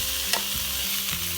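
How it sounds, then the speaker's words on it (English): Sausage frying in a little olive oil in a pan, a steady broadband sizzle with a couple of soft clicks from stirring, no talking. "So right in the same pan, we're going to go ahead and cook the sausage."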